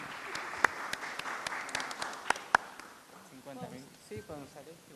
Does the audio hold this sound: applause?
yes